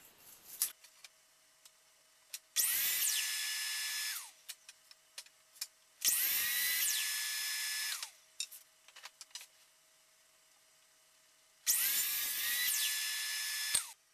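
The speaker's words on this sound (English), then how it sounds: "and cut them at the miter saw as well." Wood rails cut at a miter saw: three loud, shrill bursts of the blade biting in, each winding down, with quiet tapping and handling noises between the cuts.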